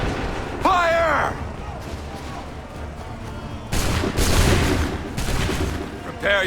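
Musket volleys crack out in the Assassin's Creed III battlefield, loud massed bursts answering shouted commands, with broadband blasts arriving in clusters amid ongoing voices and battle noise.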